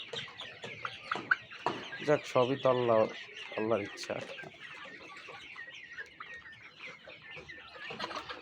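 Sonali chickens on a poultry farm cluck and chatter in short, repeated calls at close range, mixed with someone speaking over them.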